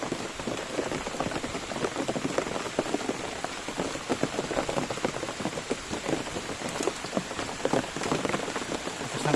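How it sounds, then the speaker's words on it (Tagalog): Heavy forest rain in a typhoon makes a steady, even roar of drops hitting leaves and ground, with no voices or other sounds over it. "sobrang lakas pa talaga ng ulan"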